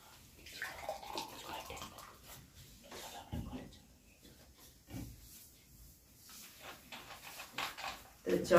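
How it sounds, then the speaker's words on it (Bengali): A cold drink poured into a glass at a meal table for a spicy chicken curry and ruti eating challenge, giving a soft splashing gush that rises and falls under ongoing talk. "কোল্ড ড্রিঙ্কসটা এখন ঢেলে নেব"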